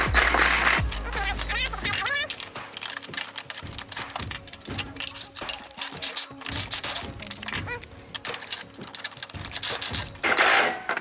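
Stainless steel ratchet strap being tightened, with rapid, dense clicking of the ratchet mechanism in continuous bursts, close and loud, with a louder rattle near the end.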